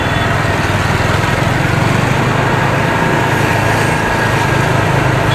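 A stock, unmodified motorcycle engine idles with its standard exhaust, a close, loud and even putter that holds steady without revving.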